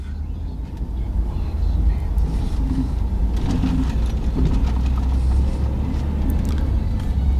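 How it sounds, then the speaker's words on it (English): A car engine runs steadily and loudly while driving across Marland's Bridge in Sunset, Louisiana, with a deep continuous rumble of engine and road noise from inside the vehicle and no clear talking. "Started right up, so let's go ahead and drive all the way across the bridge here."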